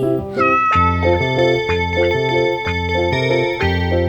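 A kitten meows repeatedly over the melody of a Tamil children's song, loud and close, each cry ringing out clearly above the steady instrumental backing.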